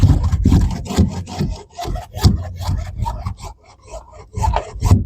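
Someone cuts and grinds a rusty car floor, giving close, loud, irregular scraping and rasping bursts of varying intensity with short pauses and no talking.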